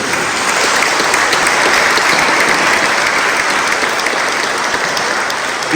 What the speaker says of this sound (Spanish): Pues vamos a dar un aplauso al Señor de la Exaltación